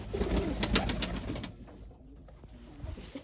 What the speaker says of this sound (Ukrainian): Голубка чи голуб, ну це дуже молоде